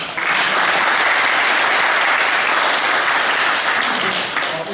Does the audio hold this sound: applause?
yes